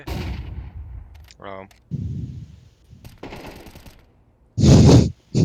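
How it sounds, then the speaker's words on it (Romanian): A flashbang grenade going off in Counter-Strike: Global Offensive: a loud, sharp burst near the end, after quieter in-game clatter and gunfire-like shots. "Flashbang. Ups, mi-am dat flash singur."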